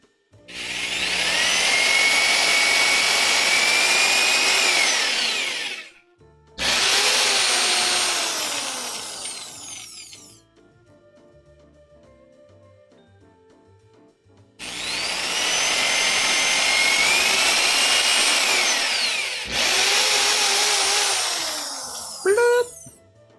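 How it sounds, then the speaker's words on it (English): An impact drill drives into pine wood in long, loud whining bursts, two runs close together, a quieter hum between, then two more runs, close by. "Drilling into it."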